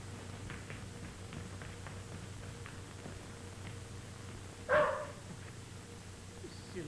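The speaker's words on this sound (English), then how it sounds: "that was only Phyllis barking" A dog in an old film gives one sharp, fairly loud bark midway through a quiet stretch with a faint soundtrack hiss and hum.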